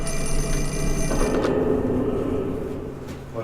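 A telephone rings in the horror game Fatal Frame 4, a steady electronic ring sounding alone over a humming background, with no talk.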